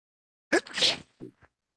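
A single sharp sneeze bursts out close by during a community board roll-call meeting, a breathy hiss following the initial catch, then a couple of soft trailing sounds.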